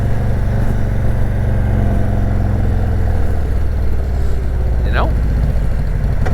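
A custom 2018 Harley-Davidson Road King Special motorcycle engine rumbles steadily at idle, a loud, close, low throb that continues throughout while someone talks over it.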